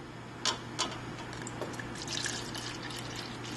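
Freshly brewed loose-leaf tea pours from a Keurig brewer's infuser into a cup, a steady soft liquid hiss with a couple of small splashes near the start, close and fairly quiet.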